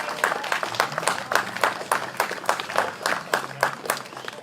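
A crowd at a property auction in West Croydon applauding a sale, dense rhythmic clapping that swells and dips steadily throughout, fairly close and lively.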